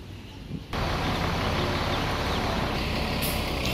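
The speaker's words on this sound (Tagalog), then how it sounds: "Sakay na tayo ng bus." A bus arriving at a stop in Sai Kung, Hong Kong: a heavy engine rumble cuts in abruptly and stays loud and steady, with a brief high hiss near the end like an air brake.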